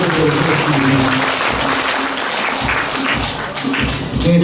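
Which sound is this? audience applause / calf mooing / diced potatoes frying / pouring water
audience applause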